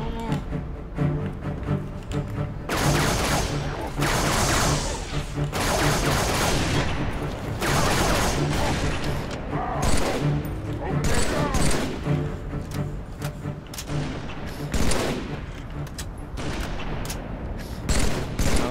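Rifle fire in the Halo video game: loud, repeated gunshot bursts and rapid volleys at close range, mixed with explosions and game noise, with players talking over the shooting.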